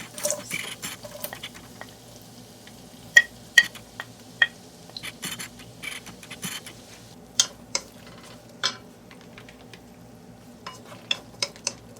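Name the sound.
onions sautéing on high heat in a pan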